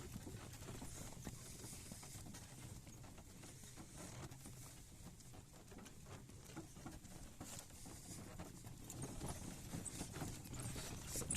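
Horse hooves clip-clop steadily at an even pace, with a tethered stallion nearby, set against a continuous outdoor patter and rustle that holds at moderate loudness throughout.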